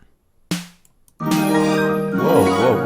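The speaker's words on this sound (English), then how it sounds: "I'm gonna make the noise a bit more decay." A synthesized drum tuned near 176 Hz strikes once with a short noisy tail. A sustained, buzzing, pitched tone with a wavering pitch follows and runs to the end.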